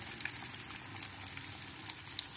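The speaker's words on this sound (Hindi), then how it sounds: "ये इसकी एक साइड हो गई है फ्राई, और दूसरी साइड से मैंने इसे रखा है" Toffee fish coated in Shan fish masala sizzles steadily in a hot pan, a continuous soft crackle and hiss with small pops, heard close up and alone.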